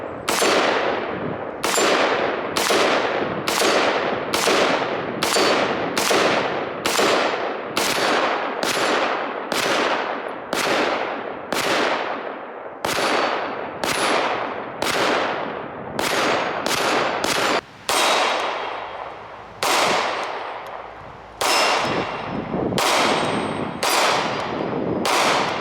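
Gunshots from a variety of firearms at a shooting range, about twenty sharp loud reports fired one after another at a steady, fairly quick pace, each ringing out briefly, with no talking.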